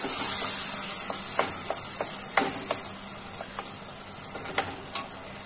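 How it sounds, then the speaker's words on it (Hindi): Chopped tomatoes fry and hiss in a kadai for kadhai paneer masala, a steady sizzle with scattered pops and clicks as the mix is stirred. "इसके साथ ही मैं इसमें ऐड करूंगी फाइनली चॉप्ड टमेटोज और इसको अच्छे से मिक्स कर लेंगे।"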